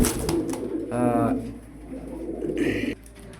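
A pair of Meghpai pigeons coo in low, throaty rolling calls, a few close bursts in quick succession with someone talking over them.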